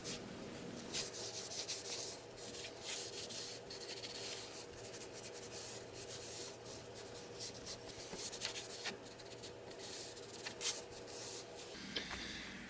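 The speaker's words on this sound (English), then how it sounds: "I'm going to flip it over, and I'm going to try to layer on some shellac" Shellac top coat brushed onto whiskey barrel wood for a serving tray, a steady soft rubbing and scratchy brushing texture over a low room hum, continuous and close, no talk.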